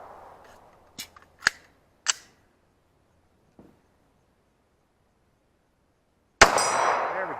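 Sig P220 Equinox and H&K USP pistols fired outdoors at targets, several sharp isolated gunshots with long quiet gaps and a faint distant shot, then a louder close blast followed by a lingering rumbling echo.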